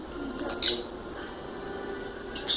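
A lovebird (agapornis) near a tortoise gives a few sharp, bright chirps in two quick bursts, close and fairly loud, then a single short chirp near the end over a faint background hum.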